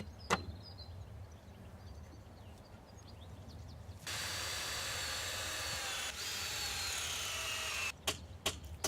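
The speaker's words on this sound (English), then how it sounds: "Drill through the posts and into the lintel" A power drill bores through wooden greenhouse posts into the lintel, a steady whine lasting about four seconds after quiet handling noise, followed by a few sharp knocks.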